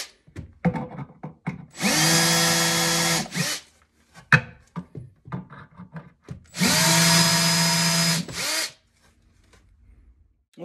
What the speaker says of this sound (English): And drill my hole.